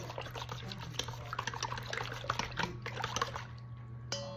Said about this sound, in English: So now I'm just going to take my dough whisk and mix this together.